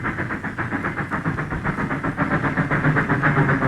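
A steam locomotive chugs steadily up a grade on the Maybrook Line with rhythmic, laboring puffs and hissing steam, close and loud throughout, with no voices.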